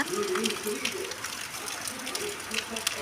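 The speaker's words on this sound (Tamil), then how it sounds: "நல்ல மழை." Heavy rain pours during a storm, a steady broad wash of falling water with splashing gusts, with a voice faintly audible beneath it.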